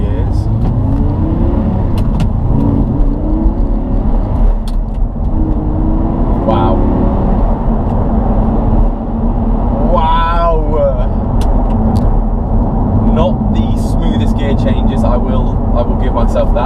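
A 2012 Audi R8 V10 with a gated manual gearbox accelerates through the gears, its engine droning steadily and loud throughout, with rising pitch sweeps between shifts and someone talking over it.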